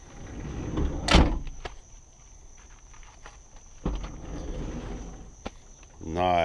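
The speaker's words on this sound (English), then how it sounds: "now we're going to test out the door and make sure that it works." Sliding door on a Nissan Quest / Mercury Villager minivan, fitted with a new handle, is latched and thudded shut, then after a pause rolls and bumps again, with quiet footsteps and a steady faint insect chirp behind.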